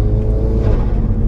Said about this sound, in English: That intake sounds pretty epic as well, doesn't it?